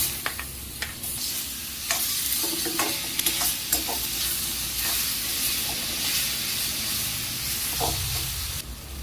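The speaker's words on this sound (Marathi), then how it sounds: "आता कांदा व्यवस्थित भाजून घ्यायचा आहे। टोमॅटो पण कांद्याबरोबर भाजून घ्यायचा आहे।" Chopped onion and tomato sizzle and hiss steadily in a hot pan while being stirred for an egg curry masala, with scattered spatula scrapes and clicks over the constant frying noise.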